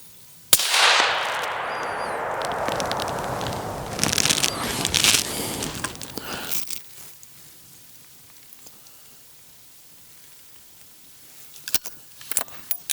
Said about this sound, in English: So we'll switch up to the suppressed shot.